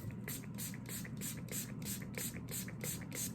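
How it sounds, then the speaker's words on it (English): Rapid bursts of spraying hiss as dye is sprayed onto a T-shirt, repeating in a quick, even rhythm, close by, roughly three per second. "Now you see how far the spray goes."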